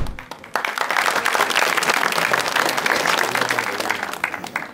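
A studio audience at an Azerbaijani stage comedy show breaks into dense, sustained applause, a loud wash of clapping that carries on for several seconds with faint crowd noise underneath.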